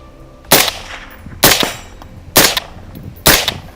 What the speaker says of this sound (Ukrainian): зброя все одно продовжує стріляти